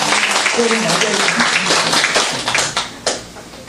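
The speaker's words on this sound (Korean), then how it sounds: "하나님 앞에 영광의 박수 다시 한번 합시다" Congregation clapping at a New Year's Eve into New Year thanksgiving worship service, a loud, dense round of applause that tapers off toward the end, with some speech mixed in.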